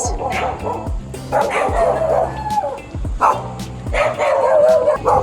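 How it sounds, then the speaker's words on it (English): Several guard dogs bark repeatedly in short, loud bursts nearby, with a few higher yips mixed in amid outdoor background noise in Manila, Philippines. "Good guard doggos."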